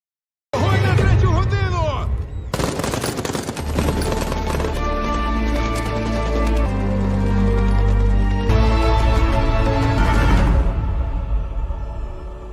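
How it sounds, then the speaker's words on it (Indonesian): Gunfire erupts in a film scene, loud dense bursts of shots layered with music and effects, continuing for several seconds after a sudden start. "Dan saat itu muncul Malina, mereka pun menembakinya"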